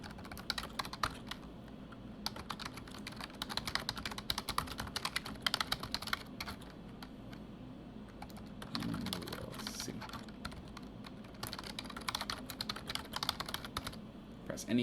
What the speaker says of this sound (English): just type some very quick practice instructions